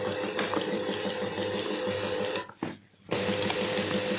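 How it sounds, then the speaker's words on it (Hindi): A sewing machine stitches at a slow, steady pace during a beginner's stitching lesson, its whirring drone running close and loud, briefly stopping for a pause before starting again. "ठीक है, मशीन चलानी है। और प्रैक्टिस के लिए आपको बता रहा हूँ कि इस तरह आपने सिलाई लगानी है।"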